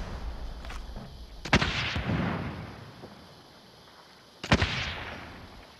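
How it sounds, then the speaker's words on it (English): In Call of Duty: Modern Warfare, a rocket launcher fires in two heavy, booming blasts a few seconds apart, each followed by a rumbling tail that fades into low background game noise. "Shooting rocket!"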